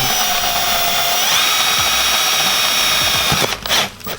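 A power drill whines steadily at high speed, its motor pitch rising slightly as it bites, then sputters and breaks up near the end.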